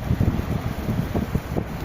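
Wind blows outdoors next to fat heating for cooking, rumbling low and gusty as it buffets the microphone in uneven pulses with no clear talk.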